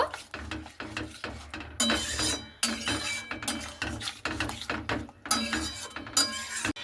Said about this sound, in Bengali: মশলাটা দিয়ে এবার খুব ভালো মতো করে আবার একটু নাড়াচাড়া করে নেব